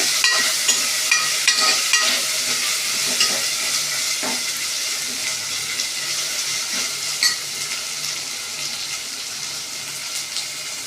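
Tomatoes and ginger paste fry in a pan for egg biryani, a steady loud sizzle with soft scraping and tapping from stirring scattered through, and no voices.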